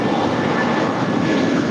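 A Korean Air airliner landing on runway 25 left at LAX, its jet engines making a steady, broad roar that is loud and sustained, with no voices.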